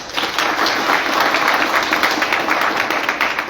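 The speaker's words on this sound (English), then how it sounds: "Let's give director a huge round of applause." A crowd at a district exams prayer gathering gives the director a loud round of applause, dense and continuous clapping from many hands close by, with no talk over it.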